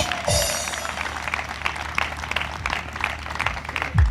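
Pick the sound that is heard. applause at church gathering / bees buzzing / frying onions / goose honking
applause at church gathering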